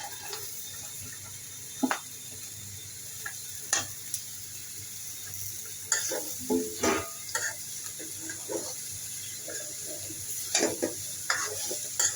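Vegetables with carrot and potato fry in a pan after spice powder is added, a low steady sizzle broken by intermittent spatula scrapes and clatters, no voices.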